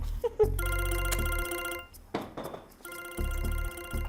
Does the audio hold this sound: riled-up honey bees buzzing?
no